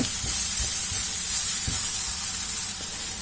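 Msemen filling frying in a pan, a steady close sizzle and hiss with a few soft stirring knocks underneath, no one talking.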